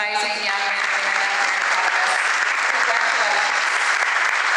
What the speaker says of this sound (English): if we can have one last round of applause for all these amazing young men and women